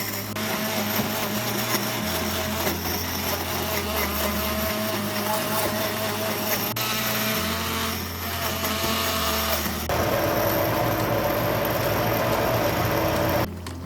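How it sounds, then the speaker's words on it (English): Electric hand mixer blending hot pepper sauce ingredients for shito, a loud, continuous motor whir with pitch shifts as the blades work through the mixture, close and steady throughout. "just grab my hand mixer. Right here, we're going to put it to work. Right, we're going to blend everything in here."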